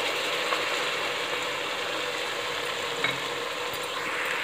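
Ginger garlic paste fries with browned onions and chillies in a pan for chicken khushka, giving a steady, even hiss with a few faint clicks and scrapes throughout.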